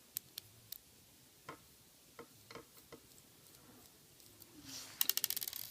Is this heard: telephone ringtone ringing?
no